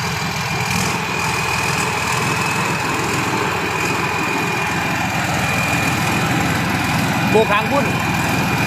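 A combine harvester's engine drones steadily and loudly at close range, with a voice talking briefly over it.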